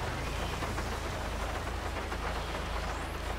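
Steady rain hisses evenly throughout, a dense broadband wash with a low rumble beneath, as if heard from inside or near a vehicle; no voices.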